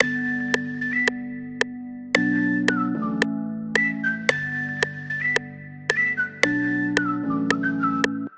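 A whistle melody repeats in short notes over a steady bass beat with sharp, evenly spaced percussive clicks, loud and up front.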